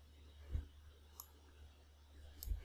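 Computer mouse clicking on a Windows PC, two or three faint, sharp clicks spaced about a second apart over a quiet background.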